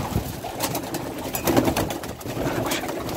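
Pigeons coo steadily inside a Samsun coop where young birds are being raised, soft low calls repeating close by over a busy background of wing and shuffling noise.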